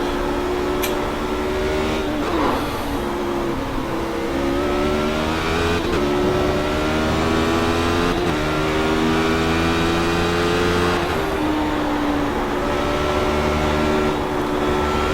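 Radical race car engine in the iRacing sim at Mosport, held at high revs with rising and falling pitch sweeps as it shifts through gears, continuous and loud with no talking.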